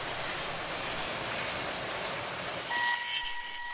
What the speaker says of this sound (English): Next, I screw the wood onto a PSI bottle stopper screw chuck and begin turning.